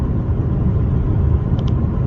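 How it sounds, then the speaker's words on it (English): A car rolls along the road with a steady, low engine and tire rumble heard from inside the cabin, with a faint pair of short tones near the end. "I'm just driving"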